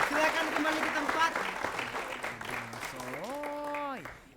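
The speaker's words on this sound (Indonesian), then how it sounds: "Tepuk tangan untuk mereka berdua." A vocational school audience at a pantun performance applauds two students with a short burst of clapping, while voices and a rising sung or spoken tone come in toward the end.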